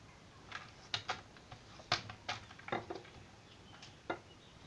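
Scissors cut a clear acetate sheet to size for a scrapbook shaker element, giving a handful of sharp, close snips in an irregular rhythm over a quiet background.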